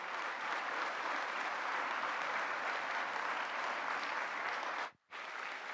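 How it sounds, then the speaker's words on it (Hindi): A large audience applauds after Prime Minister Modi's speech, a dense, steady burst of clapping that breaks off briefly near the end and then resumes. "आइए जोरदार तालियों के साथ अपना आभार व्यक्त करें"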